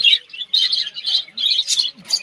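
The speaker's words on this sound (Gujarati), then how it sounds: "નાના નાના લવ બર્ડ બી છે તમે જુઓ કેટલા બધા છે કેટલો મસ્ત અવાજ આવે છે" Many small lovebirds chirp together near a Gir jungle stop, bright rapid tweets in bursts that come close and loud with brief gaps between them.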